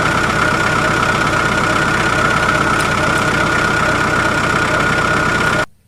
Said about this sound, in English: let's play the sound of a monster truck